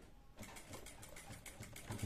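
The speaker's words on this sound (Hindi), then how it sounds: "अब मुझे किनारे किनारे सिलाई लगा लेनी है" Domestic sewing machine stitching along the edge of a v-neck collar strip, a quiet rapid mechanical whir with regular needle ticks starting after a short silence and running steadily to the end.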